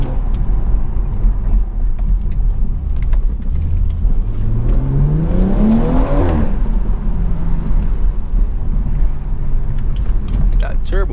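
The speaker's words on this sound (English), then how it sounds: "Turbo sounds crazy." A BMW 340i with a turbocharged engine accelerates through the gears, its revving note climbing steadily then dropping, heard from inside the car over constant road and engine noise, with a person talking.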